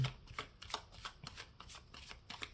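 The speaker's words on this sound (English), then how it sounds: "Now the second layer is where I shuffle again, and that is because tarot is a constantly changing" Tarot cards are shuffled close up in a quick run of crisp riffling and snapping bursts, about a dozen rapid flicks with no talking.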